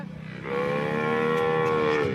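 A cow at a cattle sale in Vinchhiya, Gujarat, gives one long, loud, sustained moo that starts after a brief lower rumble, close by with no talking.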